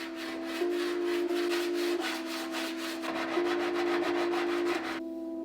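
Steady, rhythmic sanding strokes on a metal car fender with coarse 80-grit sandpaper, a continuous gritty scrape with a low hum underneath.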